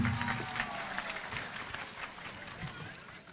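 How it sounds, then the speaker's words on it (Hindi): A crowd claps steadily, applause spread across the whole stretch at a moderate distance. "एक बार जोरदार तालियों के बौछार कर दीजिए"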